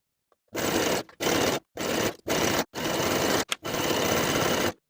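A sewing machine runs a straight stitch along a folded edge of jersey fabric, with close, loud motor bursts in six or seven runs separated by brief pauses, ending abruptly.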